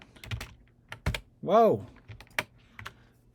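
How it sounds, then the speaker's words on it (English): Quick computer keyboard typing, sharp close clicks in irregular bursts across the whole stretch, interrupted once by a short spoken exclamation. "I was getting a little too quick on the keyboard commands."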